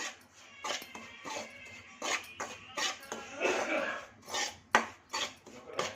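Semolina roasting in ghee over a low flame, stirred in a pan: repeated scraping and clinking strokes of a utensil against metal in an irregular rhythm, close and moderately loud, with faint background noise.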